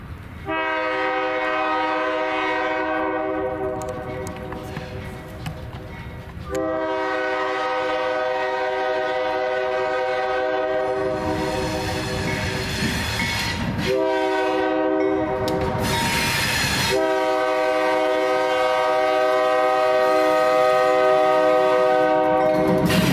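Ohio Central's ZVL train led by B23-7R diesel locomotives approaches a crossing at Jackson Road, sounding long, loud harmonic horn blasts with short gaps between them over the rumble of the engines and wheels.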